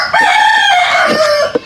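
A rooster gives one loud, close crow that rises and stretches out for over a second before breaking off.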